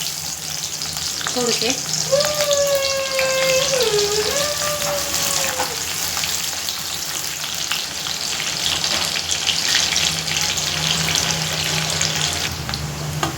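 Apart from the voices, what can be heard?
onions frying in oil in a kadhai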